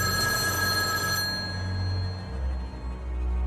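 A telephone rings in a quiet night-time room within a horror story, a steady bell-like ringing tone that holds for about a second before fading into a low, dark ambient drone.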